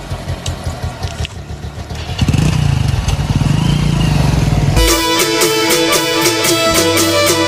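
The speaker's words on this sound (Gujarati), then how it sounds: "હું બાઇક લઈને જાઉં" A motorcycle starts up and rides off, its engine rising to a loud steady drone partway through, then fading under a sudden burst of bright music.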